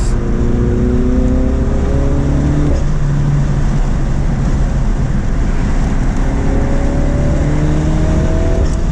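A Dinan Elite Stage 1 tuned F56 Mini Cooper JCW pulling hard in third gear, heard from inside with a loud, steady engine drone whose pitch climbs, dips at a shift point, then climbs again.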